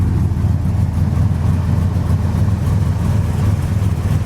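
A 1968 Dodge Coronet 500 engine idles steadily and close, a loud, even low rumble that holds without revving, outdoors on a misty day with no talk.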